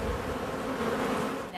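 A dense, steady buzzing of many bees, close by and continuous, with no voices.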